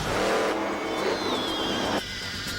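A Monster Jam monster truck engine screams at high revs, loud and close, with a pitch that rises and shifts. Near the end the roar drops abruptly to a lower, steadier drone.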